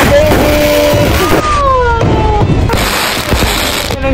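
Outdoor fireworks at a lively welcome celebration, with repeated thumps and crackling bursts under a steady wash of crowd noise and whistles.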